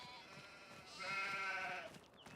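Sheep bleat in the Farming Simulator 25 video game, a layered chorus of several animals calling at once, swelling louder in the middle and fading toward the end over a steady background hum.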